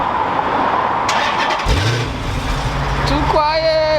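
A straight-piped Dodge Charger SRT8 V8 fires up with a sharp starter catch and loud cough, then settles into a deep, rumbling idle before a quick rising rev near the end, close to the microphone with people talking nearby.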